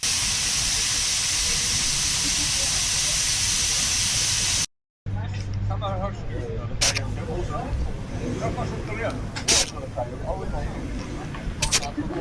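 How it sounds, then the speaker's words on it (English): Air hisses loudly and steadily from a vehicle tyre as its pressure is let down for beach driving on a sand island, briefly cut off, then quieter hissing and handling sounds follow with a voice in the background. "first job on the agenda, as it requires a lot of beach driving, is letting the tyre pressures down"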